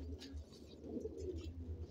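Large Quetta pigeons coo softly in a loft, low repeated throaty calls heard faintly at a moderate distance without speech.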